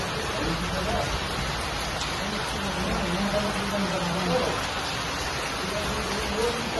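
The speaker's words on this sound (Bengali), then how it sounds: "এখানে এখন খুব জোর মাত্রায় বৃষ্টি হচ্ছে" Steady, dense rain hisses evenly throughout, with a low voice murmuring faintly underneath.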